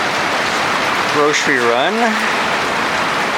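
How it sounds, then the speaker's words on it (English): Heavy rain falling onto grass in a backyard, a steady broadband hiss throughout, with a person talking briefly partway through. "Finally, we got some decent rain coming down."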